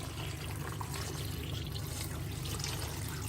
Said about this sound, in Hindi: और पानी ऐड कर देंगे।